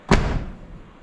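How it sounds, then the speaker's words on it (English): A single solid thud as the door of a first-generation Dodge D150 truck with new felts and a new latch shuts, a short close slam with a brief resonant decay. "This door ought to shut tight."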